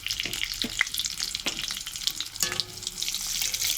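Balls of flattened rice (chira) fry in hot oil, giving a steady close bubbling sizzle with occasional sharp pops and crackles, with no talking.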